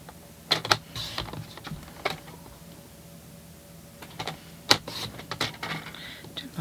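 Paper strips being cut for a handmade triangle-ended treat box: light, irregular clicks and snips up close, quiet, in two small clusters, with no speech.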